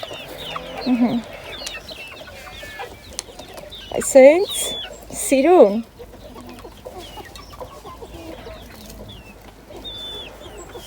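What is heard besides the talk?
hens clucking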